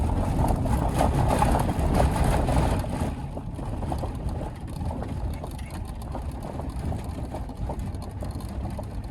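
A vehicle engine strains up a steep hill of nearly 200 feet of climb in 2-wheel drive, a loud, steady rumbling drone that eases slightly partway through, with no voices.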